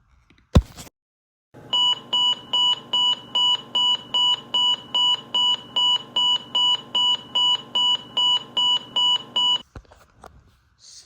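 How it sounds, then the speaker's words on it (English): Test beep tone from a Midland WR30 weather radio: a loud, shrill electronic beep repeating in an even pulse about sixteen times after a brief click, then stopping. "I'm going to go ahead and input a WR30 beep tone into this video"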